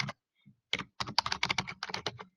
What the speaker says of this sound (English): I will type it here